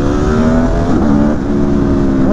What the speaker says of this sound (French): Elle te propulse en avant, cette moto, c'est incroyable.